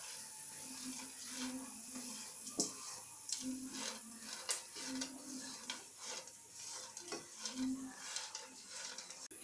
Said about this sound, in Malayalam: നന്നായി ഒന്ന് ഇളക്കി യോജിപ്പിച്ചെടുക്കാം